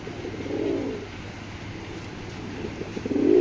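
A pair of Bagha pigeons cooing, low throaty coos in two bursts, close by and alone.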